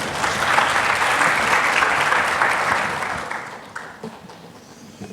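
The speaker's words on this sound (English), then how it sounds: "Can we have a huge round of applause, everyone?" Audience applause after a corporate presentation, a full roomful of clapping that holds strong for several seconds, then thins out and tapers toward scattered claps.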